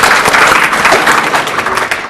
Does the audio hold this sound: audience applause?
yes